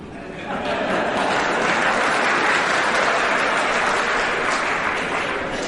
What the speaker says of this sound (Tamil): நான் முடிக்கவே இல்லை, ஏன் கைதட்டுகிறீர்கள்?